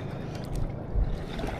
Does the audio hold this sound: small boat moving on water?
yes